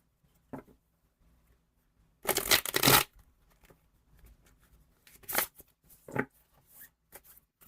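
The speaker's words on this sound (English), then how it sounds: "one more shuffle." Tarot cards are shuffled in a few quick bursts: one long riffle followed by shorter flicks and taps, close up in a quiet room.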